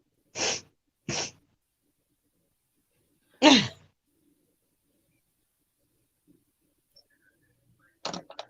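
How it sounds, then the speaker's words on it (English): A person sneezes twice in quick succession, then once more after a pause, with a few faint sniffs and a final sharp sneeze-like burst near the end, all close and otherwise quiet. "The sniffles."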